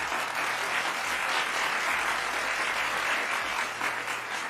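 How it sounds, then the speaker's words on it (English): Steady, dense audience applause fills the room, loud and sustained throughout with no pauses, at a live rock show where the crowd claps for itself. "Clap it up for yourself."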